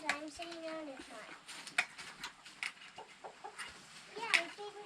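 Chickens cluck in short, irregular bursts near a chicken coop, close and moderately loud, with voices talking over and between the clucks.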